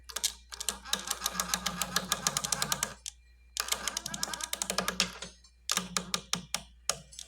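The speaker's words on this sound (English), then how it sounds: "That kind of clicking noise coming from that belt there." Rapid mechanical clicking from the deck belt of a John Deere LX255 mower with a 42-inch deck, in dense bursts, rattling steadily for a few seconds, pausing briefly, then resuming with sharper spaced clicks near the end.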